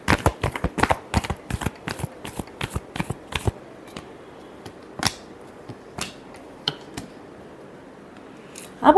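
Tarot cards being shuffled in a rapid run of crisp riffling snaps, then a few scattered single taps and flicks in near silence before a final burst.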